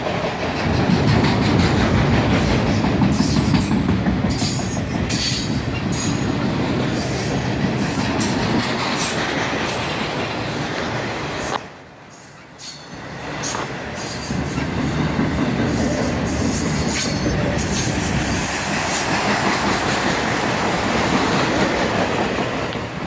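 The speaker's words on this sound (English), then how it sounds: "Now that he's gone around through the siding and he's back on the main track, he's accelerating." A freight train locomotive accelerates along the main track in Carlisle, a loud, continuous near rumble with rattling wheels and faint squeal that briefly dips midway before surging back.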